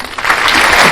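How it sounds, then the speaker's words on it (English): A short, loud burst of applause, under a second long: a dense wash of clapping with no voices over it. "Round of applause for that."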